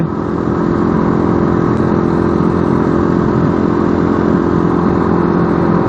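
A Triton 450 motorcycle engine idles steadily and loudly up close, a continuous even thrumming with mechanical clatter that never cuts out or falters.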